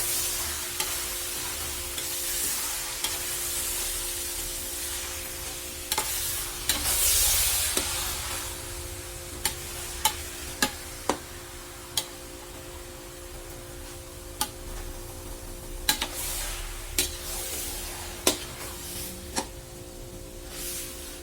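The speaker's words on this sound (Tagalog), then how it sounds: "mahirap haluin to, mga kaluto" A big pan holding 8 kilos of beef for tapsilog being stirred, a steady sizzling hiss throughout with scattered sharp taps and clinks of the utensil against the pan.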